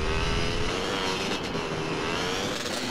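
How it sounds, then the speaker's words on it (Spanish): A motorcycle engine in GTA San Andreas, carrying a heavy rider, drones loud and continuous with a steady revving tone across the whole stretch, dense and close with no pauses and no talk. "Joder, Smoke, es muy difícil controlar la moto con tu peso"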